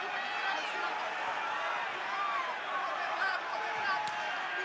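Arena crowd at a Melbourne mixed martial arts event during Silva vs Adesanya, a dense steady roar of many voices with a rhythmic chant rising faintly through it.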